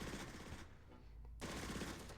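Small-arms and mortar-team gunfire crackles in the Close Combat video game during the Radzymin battle: quiet, rapid bursts that pause briefly midway and then resume.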